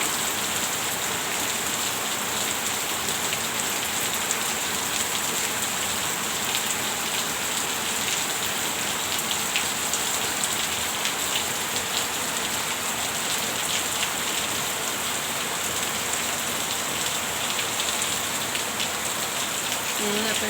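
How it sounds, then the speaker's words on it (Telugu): Heavy unseasonal rain pours down steadily outdoors, a dense, loud, continuous hiss and patter on surfaces with no breaks. "చాలా పెద్ద వాన పడుతుంది"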